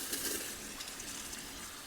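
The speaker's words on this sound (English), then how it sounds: "now we're going to add water" Water pours into a homemade yellow jacket trap in a soft, steady gush. It is quiet and close, and keeps going without a break for a couple of seconds.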